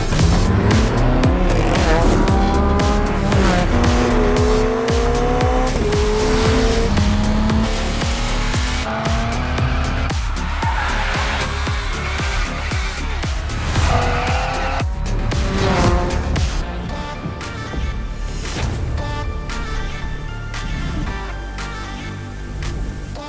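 A BMW engine revs and shifts through gears with squealing, skidding tires in The Crew Motorfest racing game, loud and continuous throughout.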